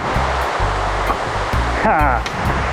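A waterfall roars continuously as it is heard from behind the falling water, a dense steady wash of noise, while someone talks over it in short bursts.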